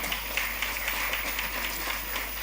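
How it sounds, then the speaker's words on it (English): Audience at an investiture ceremony applauding a named member: steady crowd clapping at moderate distance, continuous throughout with a constant low hum underneath. "Give him a round of applause, please, ladies and gentlemen"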